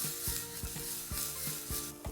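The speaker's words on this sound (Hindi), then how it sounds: "तो प्याज को हमें ब्राउन नहीं करना, लाइटली बस पकाना है 1 मिनट के लिए हाई हीट पर।" Chopped onions frying on high heat in hot tempering oil for a bun dosa batter, giving a steady close sizzle with repeated scraping stirs of a spoon against the pan.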